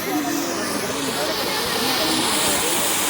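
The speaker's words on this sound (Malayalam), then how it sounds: "അമ്പാടി പൂക്കുറ്റി കത്തുന്നു നോക്കടാ" A loud, steady hiss of a fountain firework burning close by, continuous for a few seconds before cutting off abruptly.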